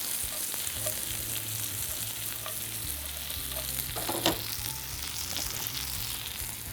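Cherry tomatoes, some crushed, fry with eggplant in a hot pan, giving a steady close sizzle with occasional stirring clicks and scrapes.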